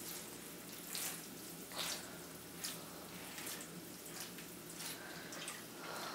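Water poured steadily over a tray of microgreens, a continuous close splashing hiss with a few louder surges as the flow shifts.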